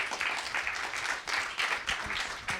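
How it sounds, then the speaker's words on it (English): An audience at a games industry investment event applauding a speaker invited on stage, moderately loud continuous clapping with a pulsing texture, no talk over it. "Round of applause, please"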